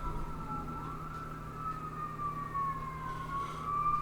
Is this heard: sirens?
yes